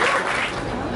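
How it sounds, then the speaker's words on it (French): Audience at a speech event in Lyon giving dense, continuous applause that stays full and steady throughout, with no talking on top. "je pense qu'on peut l'applaudir"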